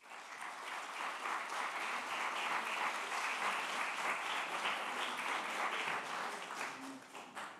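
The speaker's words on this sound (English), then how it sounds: "Now, ladies and gentlemen, a round of applause." An evening lecture audience gives a round of applause to welcome the speaker, sustained clapping from a sizeable crowd heard at a steady, moderate distance and easing off near the end.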